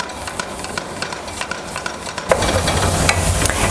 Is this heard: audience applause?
no